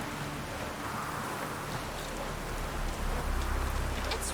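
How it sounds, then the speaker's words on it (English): Steady rain falls in The Witcher 3, a continuous soft hiss of drops on surfaces with a low rumble swelling near the end, no voices present. "It's raining. Put on your tunic."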